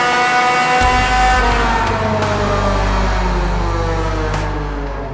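An engine-swapped Honda Civic revs hard on a dyno, naturally aspirated, its loud engine note climbing steadily through the run with rising harmonics before easing slightly at the end, with no talk over it.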